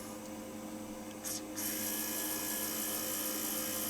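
A thin, high-pitched electric motor whir inside a Sherwood AX 7030R amplifier starts up and keeps running steadily, faint beneath a hissy background with a brief click near its start.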